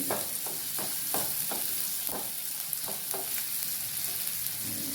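Ingredients for a South Indian yogurt chutney sizzle steadily in hot oil in a pan, with a constant bright hiss broken by repeated scraping stirs of a spoon, close and clear with no talking.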